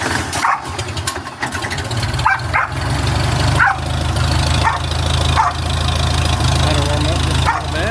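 A small engine on a farm, used for straw baling work, cranks and settles into a loud, steady idle with rhythmic chugging pulses and periodic sharper bursts, close by, with someone talking over it.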